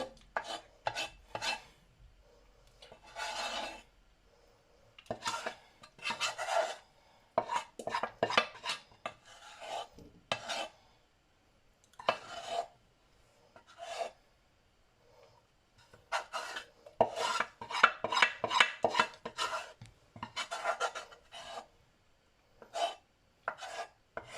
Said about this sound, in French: On gratte bien avec la cuillère.